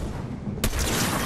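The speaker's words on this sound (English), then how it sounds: "Why did my sniper shoot?" A sniper rifle shot fires in Fortnite gameplay, a single sharp loud crack that cuts in abruptly and rings out into a dense sustained tail.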